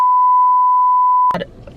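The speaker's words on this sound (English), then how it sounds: "I'm gonna beep that out." A loud censor beep, one steady electronic tone lasting just over a second, cutting off abruptly into a brief bit of muffled sound at the end.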